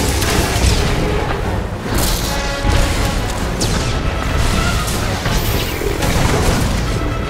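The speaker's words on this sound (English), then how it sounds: "The red targeting reticle over our Sorcerer indicates that he's been targeted for a heavy missile attack." Heavy missile attack explosions in the Star Wars: The Old Republic Eternity Vault raid, a dense, loud and continuous barrage of booming blasts and crashes with no pauses throughout.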